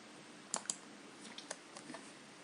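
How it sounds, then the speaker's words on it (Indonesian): An announcement typed on a computer keyboard in a quiet room: scattered soft key clicks, a couple of sharper taps early and then lighter irregular presses, faint and close. "Contohnya di sini saya ketik pengumuman"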